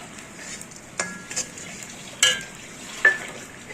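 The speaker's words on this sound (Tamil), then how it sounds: "இந்த ஓமத்து கூடவே எல்லாத்தையுமே போடலாம் இதுக்கு மேலே நெய்யில் கொஞ்சம் நெய்யில் இருந்து பொறிச்சு எடுத்தாலே போதும்" Ajwain seeds and spices fry in ghee in a pan, giving a low steady sizzle broken by a few sharp scrapes and clinks of a stirring spoon against the metal.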